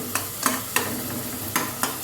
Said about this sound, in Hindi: पहले मसाला मैश अच्छी तरह से हो जाए फिर आलू और लौकी डाल दूँगी